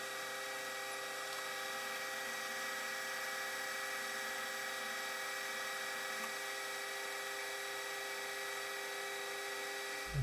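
A metal lathe with a TNGG insert turns a gear blank, giving a continuous, even high-pitched machining whine that holds steady for about ten seconds with no talk.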